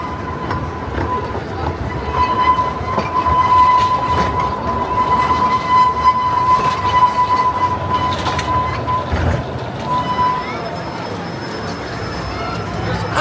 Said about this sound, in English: after our ride there on the Pleasure Beach Express